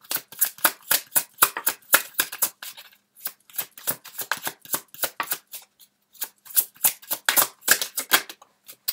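Tarot cards shuffled by hand in quick riffling bursts, crisp papery flicks and slaps repeating in rapid clusters with a short pause midway, close and alone without any voice.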